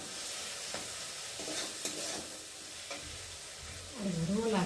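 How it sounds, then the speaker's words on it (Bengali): A vegetable spice paste fries in a hot pan, sizzling with a bright hiss while a spoon stirs and scrapes through it in short strokes, and a voice comes in near the end. "আর এখন আমি সবজি মশলাটা ভালো করে একটু ভেজে নেব।"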